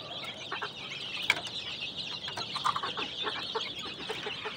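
A flock of layer hens on a poultry farm clucks in a steady, busy chatter with overlapping calls throughout, fairly close and with no one talking.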